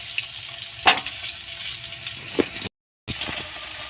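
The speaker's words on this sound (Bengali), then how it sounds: "তো চলো মাছটা আমি ভেজে নিই।" Fish sizzling in hot oil in a pan, a continuous crackling fry with a couple of sharper spits and a brief dropout near the end.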